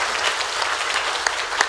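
A church congregation claps together in steady, dense applause, close and lively, with a few sharper individual claps standing out near the end.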